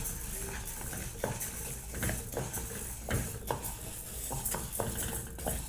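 Dal (parippu) for a Kerala-style curry fries in a pan while a utensil scrapes and stirs it in repeated clinks over a soft, continuous sizzle, close up and without talk.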